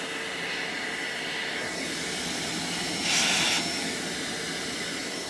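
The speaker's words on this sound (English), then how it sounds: "Got the shop vac hooked up on the exhaust side." A shop vacuum runs with a steady, loud broadband whooshing drone, hooked up on its exhaust side to a vintage Honda CB450 K0 fuel tank, with a brief slight surge partway through.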